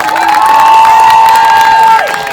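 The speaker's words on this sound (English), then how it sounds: "Let's have a big old cheer." A crowd cheers and shouts after an adult cosplay competition at a geek convention, loud sustained whoops and voices with a few whistles over about two seconds before tapering off.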